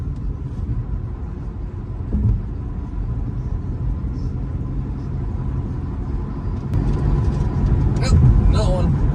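A car rumbles along rough pavement on I-70 in Kansas, a continuous low road roar with jolts and thumps as it bounces over seams, a voice talking over it.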